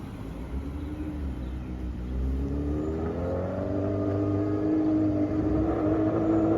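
A Suzuki Hayabusa 1300 motorcycle being ridden gives a steady rumbling engine note that rises in pitch as it accelerates, fairly close and loud, with no speech.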